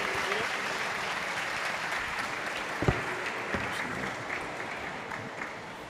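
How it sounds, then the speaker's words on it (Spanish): An audience at a storytelling event applauds steadily for several seconds, dense clapping with a few louder claps standing out. "fuerte aplauso para Jorge Luis por su historia."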